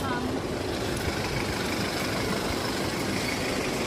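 A 13-seater Tempo Traveller van idles in South Goa, its engine a steady, close, loud rumble with constant low-end drone and broadband noise throughout, no talking over it.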